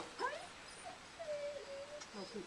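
A wolf whimpers on an outdoor wolf day, with high thin whines and short yips that rise and fall, including one longer drawn whine, all fairly close and fairly quiet.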